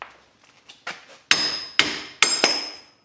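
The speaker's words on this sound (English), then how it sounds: "hit it with a hammer" Metallic hammer blows on a rusted rear wheel hub: a few light taps, then four loud ringing strikes spaced about half a second apart.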